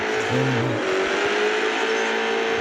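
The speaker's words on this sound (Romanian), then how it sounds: "N-am mai văzut Ford cu motor de Bugatti." A Ford car fitted with a Bugatti engine in a video game roars continuously at high revs, loud and close, with a brief lower droning tone early on and no talking.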